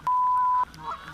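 Canada geese in a roost flock give a loud, drawn-out single honk close by, followed by fainter scattered calls in the background.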